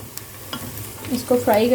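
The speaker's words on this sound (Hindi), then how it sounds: "अब इसको फ्राई करें" Chopped onions with a single piece of cinnamon frying in a pan for aloo palak, with soft scraping stirs that grow louder and busier toward the end, close and alone.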